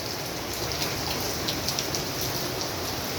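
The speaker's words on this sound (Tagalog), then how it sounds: "Sobrang lakas ng ulan mga kadyang ko." Heavy rain pours steadily outdoors, soaking cardboard scrap collected for recycling, a dense unbroken hiss with no voices over it.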